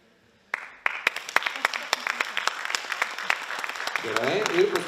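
Audience applause at a NABBA bodybuilding contest for men newcomers in Lithuania/Latvia: a sudden burst of many hands clapping, steady and dense with sharp individual claps, while a voice speaks over the end.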